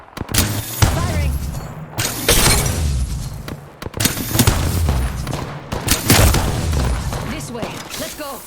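Gunfire in the battle royale game Apex Legends, with repeated bursts of loud, close shots and booms coming in rapid volleys, interspersed with players talking over the action.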